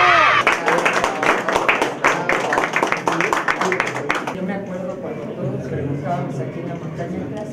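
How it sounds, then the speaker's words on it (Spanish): Crowd applause at a community house handover ceremony in La Lucerna, Malinaltepec, loud dense clapping for about four seconds, then thinning into scattered claps under a murmuring crowd and talk. "¡Aplausos, por favor! ¡Aplausos!"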